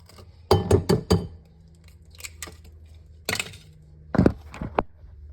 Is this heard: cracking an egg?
yes